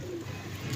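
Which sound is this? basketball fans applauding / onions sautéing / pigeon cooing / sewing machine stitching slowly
pigeon cooing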